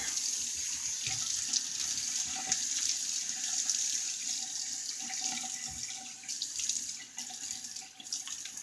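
A bathroom tap runs steadily while water splashes during face wetting, with a continuous close hiss and a few small splashes, no talking.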